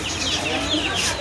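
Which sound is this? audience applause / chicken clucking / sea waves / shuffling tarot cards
chicken clucking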